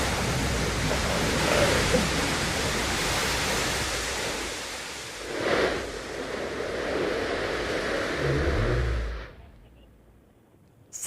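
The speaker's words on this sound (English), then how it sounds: "There it is, engine ignition, engine relight coming in for a landing." Broad, roaring rush from the New Shepard booster's BE-3 rocket engine relighting during its landing descent, a continuous dense noise that swells briefly midway, then rumbles low and cuts off into near silence.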